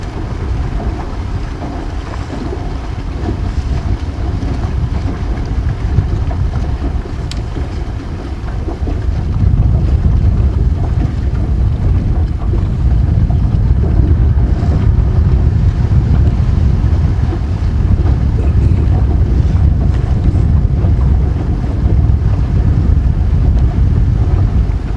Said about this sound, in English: More wind coming to you.